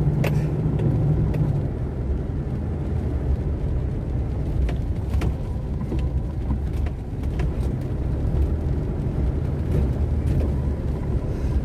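A car drives through heavy rain in Itanhaém on the São Paulo coast, with a steady low engine and road rumble inside the cabin and scattered taps and swishes over a continuous hiss.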